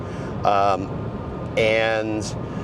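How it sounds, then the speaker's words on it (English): Steady road and tire roar from a Chevy Bolt EV cruising at 70 mph on a highway, a constant broadband hum with people talking over it. "Right now I've got some tire noise coming from the highway"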